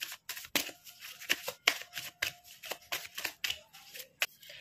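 Tarot cards being shuffled and drawn by hand, a quick series of crisp riffling snaps and soft slides in an irregular rhythm, close and fairly quiet, with no talk.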